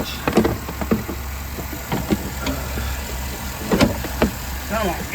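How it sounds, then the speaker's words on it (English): A Chevrolet Suburban's engine runs steadily underneath, mixed with clunks and handling noises close by and a person talking. "motor sounds really good"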